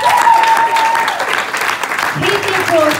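Crowd applauding at a community awards ceremony, loud continuous clapping with a voice speaking over it and music tones in the background.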